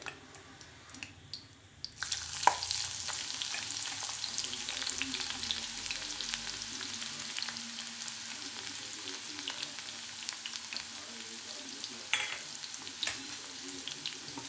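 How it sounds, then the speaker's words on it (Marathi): Mustard seeds, cumin, an onion and chili added to hot oil in a pan, a quiet start giving way to a steady, moderate sizzle lasting over twelve seconds, with scattered pops and stirring clicks. "त्यानंतर एक कांदा आणि थोडी मिरची टाकून घेते आहे."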